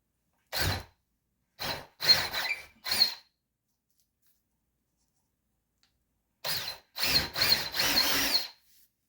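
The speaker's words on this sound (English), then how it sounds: "So I'm gonna go and use that 5/16 drill bit" A power drill with a 5/16 bit whirs in short close bursts: a few quick spins, a pause of silence, then several longer runs as it bites into the wall for molly bolts.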